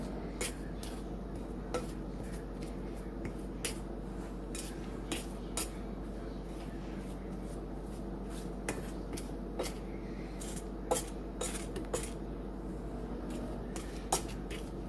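Butter being mixed into cupcake cream filling in a bowl, with a run of sharp, irregular clinks and scrapes of a utensil against the bowl over a quiet room hum.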